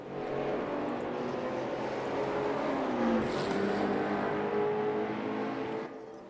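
A Ford Mustang leads two BMW race cars around Bathurst, their engines a sustained, loud roar that shifts in pitch as they accelerate, with no voices before the sound fades at the end.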